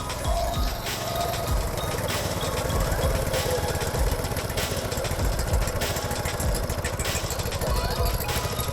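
A cheap go-kart engine runs steadily and loudly throughout, a dense buzzing drone with the wheels spinning, no voices over it.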